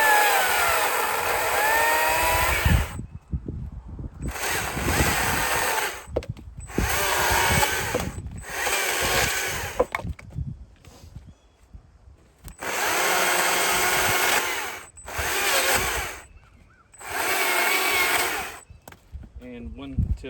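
A power saw cutting limbwood laid across a sawbuck, sounding in six loud bursts of whining cutting separated by short quiet gaps, with speech between the cuts.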